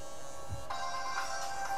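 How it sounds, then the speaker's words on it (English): A mobile phone ringtone sounds during a Total War: Rome 2 gaming session, a steady electronic melodic tone starting partway in and continuing at moderate level over game background. "My phone again and again and again."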